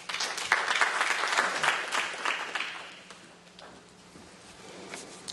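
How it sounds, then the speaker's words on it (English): Audience applause welcoming a speaker at an industry conference on non-ferrous metals, a dense burst of clapping that swells, then thins and fades to scattered claps. "Please welcome Mr. Hariharan with a big round of applause."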